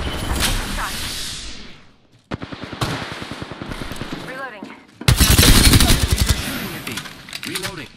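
Rapid automatic gunfire bursts from the Apex Legends video game, loud and close, with fast rattling volleys broken by a brief lull, mixed with game effects and an in-game voice.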